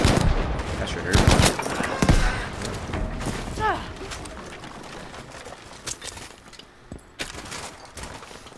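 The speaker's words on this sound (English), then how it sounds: "Somebody out there sniping." Sniper and other gunfire in Battlefield V Firestorm comes as sharp cracks and booms, loudest early and then thinning out to scattered distant shots, with game effects and a voice mixed in.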